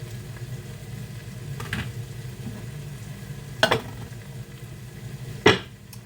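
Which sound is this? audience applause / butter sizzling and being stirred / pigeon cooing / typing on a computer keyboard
butter sizzling and being stirred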